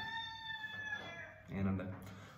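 A rooster crows close by, a drawn-out harmonic call that fades before a rougher burst of sound, with voices in the background.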